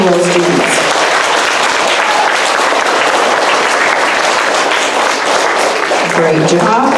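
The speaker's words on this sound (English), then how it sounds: "let's clap for this first row of A-B honor roll students" An audience at a school honor roll ceremony claps continuously for a row of A-B honor roll students, dense loud applause throughout with a voice briefly heard at the start and end.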